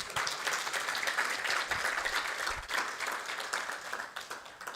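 An audience at a World Bank Uganda economic update launch applauds, a steady, fairly dense patter of clapping that holds evenly throughout before easing slightly at the close.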